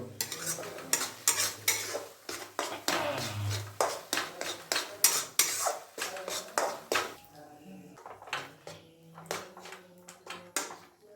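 Masala for chicken kasa frying in a pot while a spoon stirs it, giving rhythmic scraping clanks over a soft sizzle. The stirring slows and lightens toward the end.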